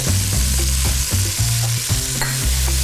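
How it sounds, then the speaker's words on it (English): Leeks and a generous amount of garlic sautéing in melted fat with salt in a pan, a loud close sizzle with rhythmic stirring scrapes roughly every half second. "And we're just gonna saute this up"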